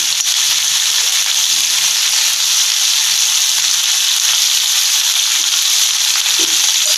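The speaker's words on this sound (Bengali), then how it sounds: "টমেটোটাও দিয়ে দিলাম এবার এটাকে একটুখানি আমি নাড়িয়ে নেবো" Tomato curry frying in hot oil as it gets stirred, giving a steady close sizzle and hiss with faint scraping throughout, and no talking.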